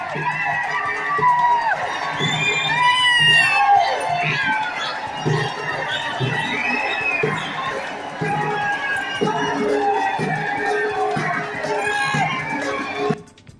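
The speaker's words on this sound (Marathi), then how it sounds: "स्थानकावर आंदोलकांनी मोठ्या प्रमाणात गर्दी केली" A large, dense crowd of protesters fills CSMT station in Mumbai, a steady mass of chatter, shouts and scattered cheers that stays loud and close throughout.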